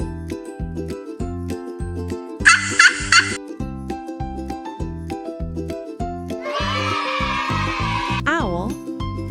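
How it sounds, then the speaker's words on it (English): A turkey gobbles in a loud burst and again later, heard over a bouncy, steady music track with jingling accents. "turkey"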